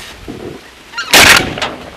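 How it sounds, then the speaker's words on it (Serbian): During a goose hunt, a goose calls briefly before a loud, sharp shotgun blast erupts close by, followed by a quick second report and fading echo. "Evo je guska, čekaj."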